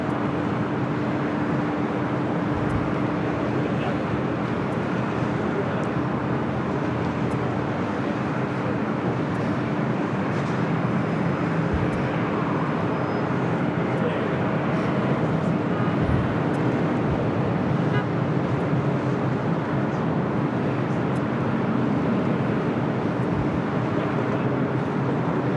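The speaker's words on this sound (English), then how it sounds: "KLM Flight 604 heading back to Amsterdam in a 787-9 Dreamliner, our next takeoff. Now rolling down at 25 right." A KLM Boeing 787-9 Dreamliner taking off on runway 25 right at LAX, a loud, steady engine roar heard from near the runway, holding even with a constant hum beneath it.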